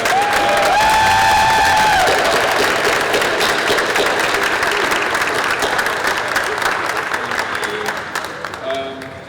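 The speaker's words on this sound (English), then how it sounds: "I would just love for you guys to give them one more huge round of applause" A large audience at an end-of-year school creative writing event bursts into loud sustained applause with cheers and whoops over the clapping at the start, then slowly tapers toward the end.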